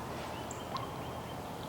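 A wild turkey gobbler gobbles faintly and far off in open country beside a deep valley, a brief rattling call over steady outdoor background noise.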